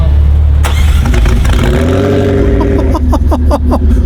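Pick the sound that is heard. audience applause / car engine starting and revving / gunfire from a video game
car engine starting and revving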